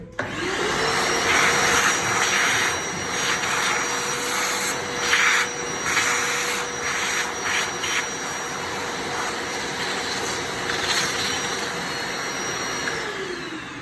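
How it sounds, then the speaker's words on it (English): A vacuum cleaner runs steadily close by while cleaning out a Mahlkonig E80 coffee grinder, a loud whining roar with a high tonal whine and brief shifts in pitch as the nozzle moves around, alone without voices. "Another vacuum."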